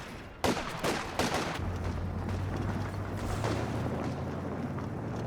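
A landmine explodes under a vehicle in Company of Heroes 2: a sudden loud blast, then rumbling booms and scattered gunfire from the battle, fading into a low, steady engine-like hum.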